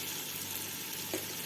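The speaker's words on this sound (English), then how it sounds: "I have turned the flame a little high now and just frying this up really well." Mutton frying in a pan over a high flame gives a steady, dense sizzle with no gaps, close and moderately loud throughout.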